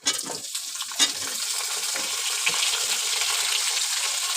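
Cut potatoes drop into hot oil for a hilsa fish curry with potato, eggplant and tomato, giving a loud, steady sizzle close by with a few sharp spitting crackles near the start.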